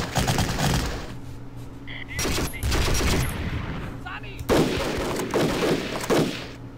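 Sustained bursts of gunfire from Waffen-SS units in the WWII strategy game Battle Academy 2 on the Eastern Front, urban fighting, with repeated rattling volleys and fusillades, fairly loud, a voice speaking briefly in between.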